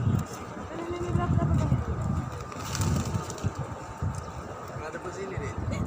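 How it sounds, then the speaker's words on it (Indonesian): Pigeons cooing and fluttering outside a mosque in Medina, soft low coos mixed with crowd murmur and nearby talk in an open courtyard. "di sini burung pun banyak merpati"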